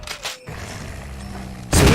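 Gunfire in Resident Evil HD Remaster: a couple of loud close shots with booming thuds, then a short muffled pause and another sharp blast at the end, with no talk.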